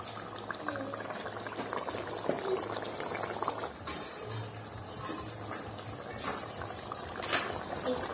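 Masala fish curry simmers in a pan, giving a low, steady bubbling hiss with faint crackles throughout and no talking.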